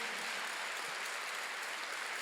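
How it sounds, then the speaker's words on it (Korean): Applause from a Korean church congregation during a Sunday sermon at a Jesus-centered church: a dense, steady wash of many hands clapping together at once, sustained evenly throughout with no voices above it. "박수"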